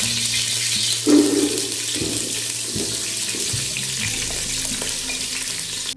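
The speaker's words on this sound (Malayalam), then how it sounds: "ഓയിലൊന്ന് നല്ലവണ്ണം ചൂടായി വരുമ്പോൾ രണ്ട് സവാള ചെറുതായി കട്ടി വരുന്നു ഇതിലേക്ക് ചേർത്ത് കൊടുക്കാം" Two finely chopped onions sizzle in about five teaspoons of hot oil for chicken madhooth, a steady close hiss of frying with a few soft stirring clatters and no voices.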